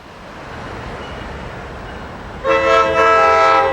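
Norfolk Southern Executive Train led by a pair of F9 diesel units rumbles up close, then its air horn blasts loud and sustained over the steady roar of the passing train.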